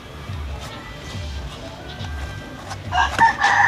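A fighting rooster crows nearby with its repeated call over a background of chickens clucking, followed by a brighter burst of squawking toward the end.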